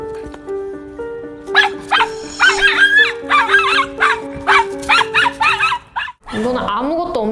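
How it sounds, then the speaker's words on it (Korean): A white schnauzer barks repeatedly in sharp bursts over steady background music, with a brief pause near the end before a final strained vocal sound. "이거는 아무것도 없는데도 이렇게 막 짖더라고요."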